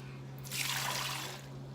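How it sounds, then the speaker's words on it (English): Hot water from boiled potatoes pours out in a short, splashing gush that swells and then tapers off, over a low steady hum. "Drain that water."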